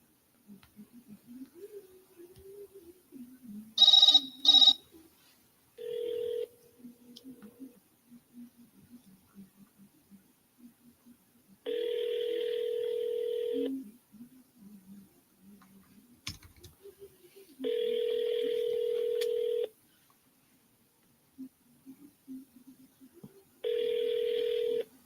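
An outgoing call rings through a phone line, several evenly spaced electronic ring tones separated by silence, preceded by short beeps and faint keypad-like clicks, with no talk.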